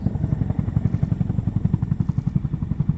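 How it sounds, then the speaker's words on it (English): An RAF Chinook helicopter comes in to land at an air show, its twin rotors beating a loud, rapid, steady chop close by with a deep engine rumble underneath. "monitoring the height of the aircraft as she comes into land"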